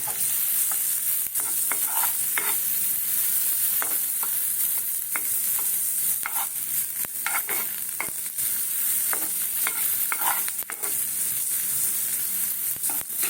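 Onion fries in a pan for potato tikki, producing a loud, continuous, close sizzle with scattered clicks and scrapes from stirring throughout and no voices.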